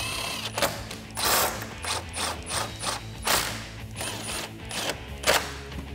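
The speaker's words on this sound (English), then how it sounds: "I'm going to tighten those up with that 10 millimeter socket." Ratchet wrench with a 10 mm socket tightening factory hardware bolts on a Jeep Wrangler JL during a headlight install, giving repeated close metallic clicking pawl strokes in steady bursts, loud and alone.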